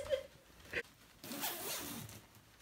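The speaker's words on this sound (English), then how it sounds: "It was zipping because I didn't close the little zipper first." Zipper on a bean bag chair being zipped in quick brisk pulls, close and clear, followed by a longer rasping zip, with faint rustling between strokes.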